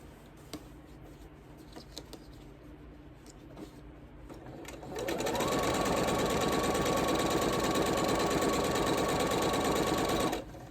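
A sewing machine runs steadily for about six seconds, stitching quilt patches together, after a quieter stretch of room noise; the motor hum is loud and continuous with no talking.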